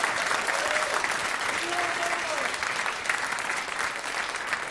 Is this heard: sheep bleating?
no